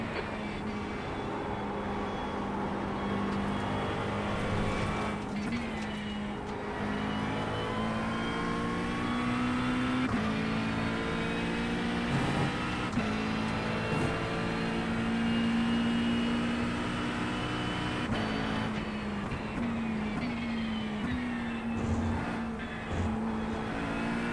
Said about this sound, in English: fast car approaching